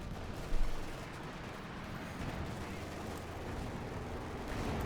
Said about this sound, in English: The artillery caused him significant harm and discomfort.